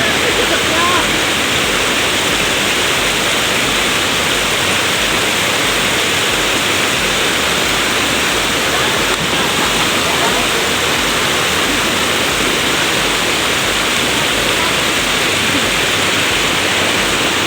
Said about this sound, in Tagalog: Ayan guys, umulan na naman.